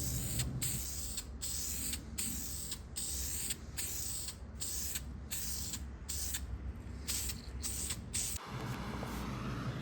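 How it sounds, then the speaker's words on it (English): A spray can lays a final coat of primer onto a warmed engine block for a budget LS build, giving a steady loud hiss broken by regular short pauses between bursts before a final changed tone near the end. "Just warmed up the block a little bit, and now we're gonna throw the last coat of primer on this."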